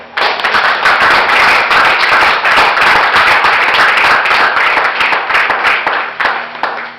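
Church congregation applauding after a sermon, a loud, dense, steady burst of clapping that runs the full length without pause.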